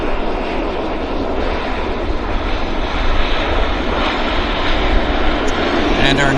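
A propeller airplane rolls out after landing at Vancouver Airport, its engines making a loud, steady, broadband roar that holds evenly for the whole stretch, with what seems to be a voice faintly under the noise.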